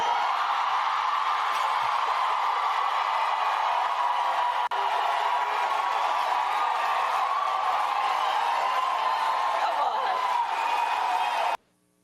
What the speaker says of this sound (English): You see how the crowd went crazy?